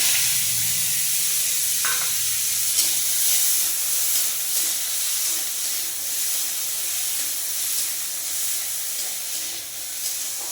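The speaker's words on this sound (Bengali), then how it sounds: "তেলটা গরম হয়ে গেছে সর্ষেটা দিয়ে দিলাম" Mustard seeds crackle and sizzle in hot oil, a bright continuous hiss with faint pops, close and steady, with a brief scrape of a utensil early on.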